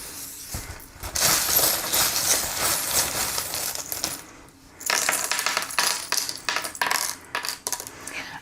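Small metal charms cast and shuffled for a fortune reading, repeated light clinks and jingles in two bursts separated by a short pause, close and fairly quiet with no talking.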